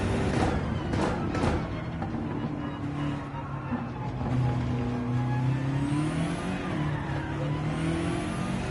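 A race car engine in Gran Turismo 7 runs at light throttle while slowing over curbs, a steady droning tone with rising and falling pitch sweeps, continuous and fairly loud throughout.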